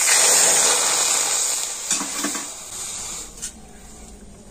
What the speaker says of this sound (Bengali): সেই বাটি মেপে আমি 1 বাটি জল কড়াতে দিয়ে দিচ্ছি